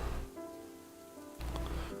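Steady rain patters across the whole stretch, soft and dense, with a slightly heavier burst of drops near the end and no voices.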